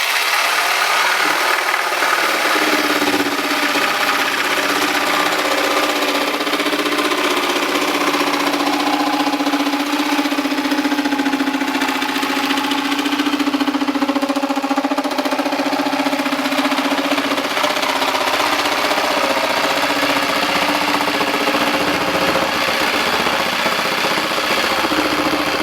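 A band saw cuts wood at slow speed with a steady, loud, continuous whirring drone. The hum holds unbroken throughout, with no voices.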